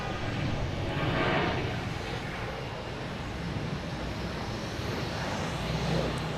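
A Boeing 737-800 jet bound for Charlotte rumbles steadily at Boston Logan, a broad, continuous roar with a slight swell near the start, no voices over it.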